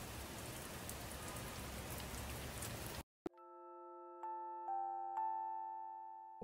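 Steady rain falls for about three seconds as a dense, even hiss, then cuts off abruptly and gives way to sustained chime-like tones.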